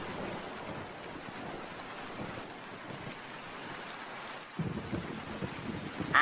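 Rain and stormy wind in a cartoon thunderstorm make a steady rushing wash, moderately faint, swelling slightly louder toward the end.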